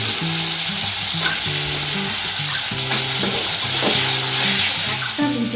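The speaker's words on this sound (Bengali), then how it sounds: "এবার আমি আলুগুলো ভেজে নেব।" Potatoes sizzle loudly and steadily in a hot pan, a continuous crackling hiss with occasional stirring scrapes, while faint tonal sounds run beneath.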